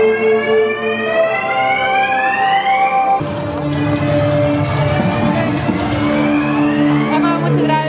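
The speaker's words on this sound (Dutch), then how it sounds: "hoorde je dus de brandalarm nog de hele tijd gaan" A fire alarm at an amusement park wails continuously with rising, harmonic tones, loud and close, while muffled voices and commotion mix in underneath.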